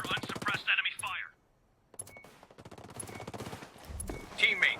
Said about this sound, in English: I hear unsuppressed enemy fire.